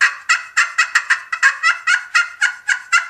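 A wild turkey hen yelps in a steady series of about a dozen harsh, raspy notes, close and loud with no talking over them.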